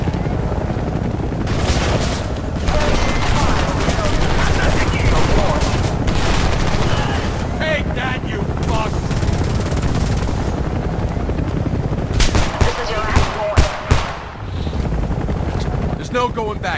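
Sustained gunfire from the 2011 Homefront video game: dense rattling automatic bursts over a constant loud rumble of battle and engine noise, with voices shouting orders throughout.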